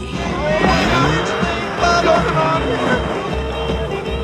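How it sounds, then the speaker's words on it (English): A remote-controlled car in the Superman IV film scene drives off a cliff with engine roar, tire squeal and screeching movie effects under dialogue and score. "when the car drives off the cliff because he's using a remote control to control it"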